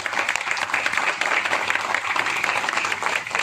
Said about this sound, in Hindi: तालियों की आवाज अभी भी कम है